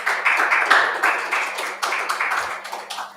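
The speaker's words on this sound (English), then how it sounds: "A big round of applause for him, please." Audience applause at a fintech hybrid meetup, a steady wash of many hands clapping for a speaker taking the stage, moderately loud and continuous.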